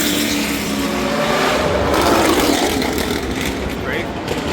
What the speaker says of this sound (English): Check out a couple of these race cars.